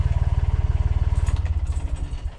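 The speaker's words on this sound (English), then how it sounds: "I run the engine for half an hour in the morning to top up the batteries first thing" Boat engine running first thing in the morning on a winter cruise, a close, steady low chugging idle with regular pulsing beats that grows slightly rougher toward the end, with no talking.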